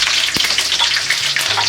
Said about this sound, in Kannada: ಎಣ್ಣೆ ಬಿಸಿಯಾದ ನಂತರ ಇಲ್ಲಿ ನಾನು ಅರ್ಧ ಟೇಬಲ್ ಸ್ಪೂನ್ ಅಷ್ಟು ಸಾಸಿವೆ ತೊಗೊಂಡಿದ್ದೀನಿ.